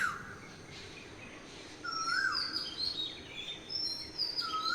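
Repeated rising whistled calls of an Asian koel carry from a distance over steady outdoor background noise, several phrases spread through the stretch alongside other faint bird chirps.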